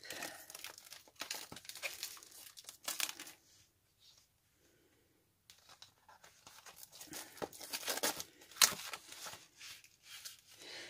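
Paper gift-wrap sheets joined like sticky notes being handled and torn off one at a time, giving close crinkly rustling and ripping bursts with a quiet pause in the middle.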